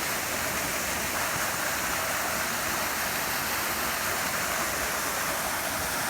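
Steady, loud rushing of a creek waterfall in subtropical rainforest at South Kobble Creek Falls, a dense broadband roar that holds constant from start to finish with no voices.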